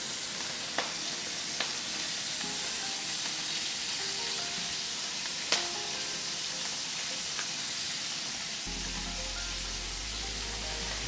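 Torn kale sizzles loudly in a hot pan while being stirred, a close steady hiss with occasional scraping clicks of the utensil.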